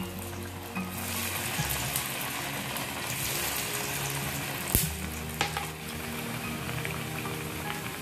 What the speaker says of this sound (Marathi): या अगदी झटपट तळल्या जातात